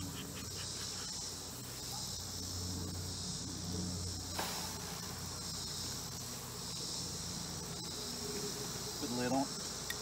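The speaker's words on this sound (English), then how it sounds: "It'll be about 300 bees, and we're going to get them in this jar here." Honeybees shaken from brood frames into a jar give a steady, dense buzzing hum that carries on throughout, close and even, with a brief higher tonal sound near the end.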